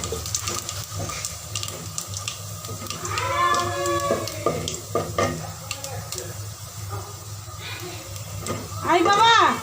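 Panch phoron spices dropped into hot oil for dal, giving a steady crackling sizzle with stirring scrapes of a utensil. Someone talks over the frying in a home kitchen.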